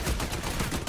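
Gunfire in the third-person shooter Army of Two, a quick close run of sharp shots packed into under a second.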